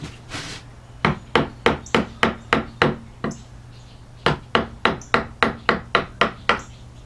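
Mallet blows drive a V-tool through wood during carving, sharp close knocks in two steady runs of about six and ten evenly spaced strikes, with a short pause between.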